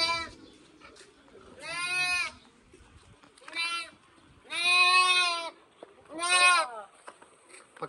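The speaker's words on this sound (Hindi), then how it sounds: "पकड़ा भेड़ को यार।" Sheep bleating repeatedly in a village farmyard, four loud, drawn-out cries separated by short pauses, with faint background activity between calls.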